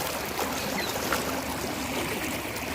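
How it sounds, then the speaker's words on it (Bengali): Strong current of flood water rushing past a bridge over submerged farmland, a steady loud broadband roar with no voices. "আর জলের স্রোতটা দেখো জাস্ট ফলফল করছে"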